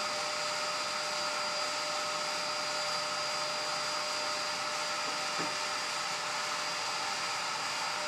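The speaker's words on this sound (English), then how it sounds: "Just waiting for this to finish cooling down now." An IKAWA home coffee roaster cooling its beans gives off a steady, airy fan roar with a faint whine, unchanging and close, with one brief soft knock partway through.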